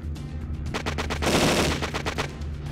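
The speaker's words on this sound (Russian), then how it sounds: "Он через стену в меня стреляет." Rapid bursts of automatic gunfire from an enemy shooting through a wall in the video game Cold Zero: The Last Stand, a loud dense volley peaking in the middle with sharp repeated shots on either side.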